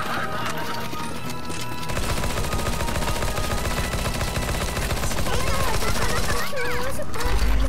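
Rapid automatic gunfire aimed at zombies on a Pokémon-themed zombie escape map in a shooter game, a steady loud stream of shots with overlapping music and game noise, building louder toward the end.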